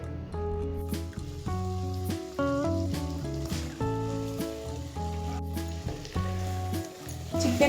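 Shredded chicken sizzles as it fries in a masala paste with ground cashew in a pan, a steady crackle under prominent background music.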